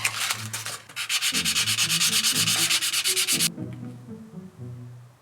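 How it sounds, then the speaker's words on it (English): A metal waffle-shaped piece sanded by hand with 400 and 1000 grit sandpaper, loud close rhythmic rasping strokes in a fast steady run that stop abruptly, leaving a low background hum. "So I've got some 400 grit sandpaper. This is some 1000."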